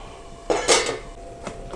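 A metal pot lid is set down over a pan of cabbage curry with a close clatter, followed by a faint clink a moment later.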